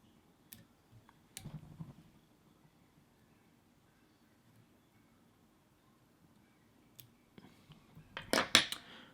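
Scissors trim materials while tying a Crimson Hare Irish wet fly, giving faint, sparse snips and clicks in a quiet room, with a brighter cluster of close metallic snipping at the end.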